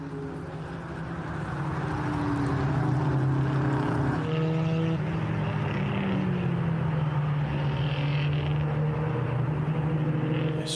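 Historic single-seater race cars at Redstar Raceway sweep past on track, a loud sustained engine roar that rises, holds, then shifts pitch as the cars go by, fairly close and with no talking.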